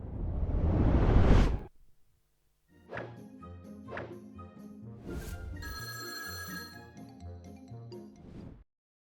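A jingle plays on a French television studio set, opening with a loud rising whoosh that cuts off into a short silence, followed by a bright electronic tune with ringing, bell-like notes and punchy beats.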